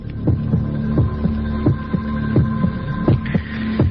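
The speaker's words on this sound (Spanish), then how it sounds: "Latidos de corazón" Recorded heartbeat played back, a steady lub-dub pulse of about ten beats over a continuous low electronic hum, loud and close with no voices.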